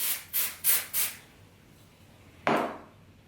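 Four quick hissing bursts of hair spray in a row, then a pause and one more spray, close by.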